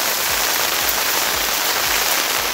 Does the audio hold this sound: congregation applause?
no